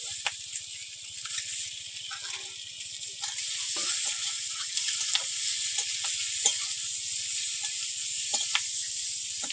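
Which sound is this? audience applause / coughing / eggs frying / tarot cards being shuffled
eggs frying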